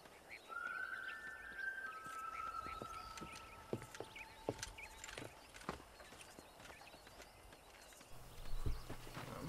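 Horse hooves clip-clopping in Red Dead Redemption, a steady rhythmic trot on open ground, moderately close, alongside game ambience with bird calls and a louder stretch near the end.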